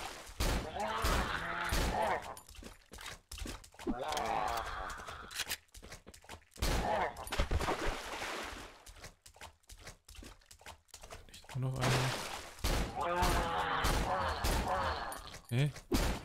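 Gunfire in the horror video game Cry of Fear comes in rapid, sharp bursts of shots with clanking mechanical noises between them, loud and close, under someone talking.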